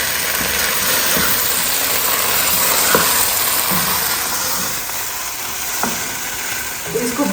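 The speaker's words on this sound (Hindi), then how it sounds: "ये अब हम बारी बारी भून रहे हैं, क्योंकि ये सबसे ज़्यादा जानलेवा काम है, हलवे को भूनना" Halwa being roasted in a pan, a loud, steady sizzle of frying with periodic scraping stirs of the spoon running throughout, close and continuous.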